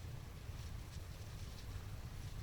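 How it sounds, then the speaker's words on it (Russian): Steady wind off the Caspian Sea buffeting the microphone, a low continuous rumble with faint airy hiss above, no voices. "Ветер с моря, если задул, то прям вот в эту стенку дует."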